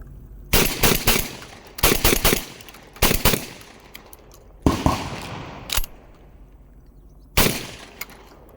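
A Mac 1014 Benelli M4 clone semi-automatic shotgun fires a string of loud, sharp shots outdoors, a quick double and triple in succession, then single blasts spaced a second or two apart, each followed by a brief echoing tail.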